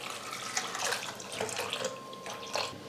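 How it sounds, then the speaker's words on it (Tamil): Water streams and splashes into a pot of lentils being readied for cooking in a pressure cooker for keerai sambar, a continuous near pour with small bursts of gurgling. "இப்போ பருப்பு வேகிறதுக்காக தண்ணி சேர்த்துக்கலாம்."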